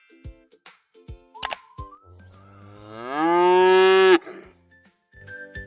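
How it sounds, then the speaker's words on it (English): A cow lets out a single long, loud moo that rises and holds. Before it come scattered clicks and thin tonal farm sounds. "The cow says moo and eats grass all day."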